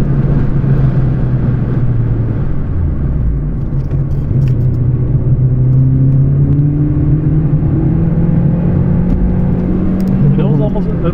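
Volkswagen Golf 3 with a 100bhp engine on winter tyres lapping Zandvoort circuit, a steady loud in-cabin engine drone with rising and falling pitch as it accelerates through gears, with people talking over it.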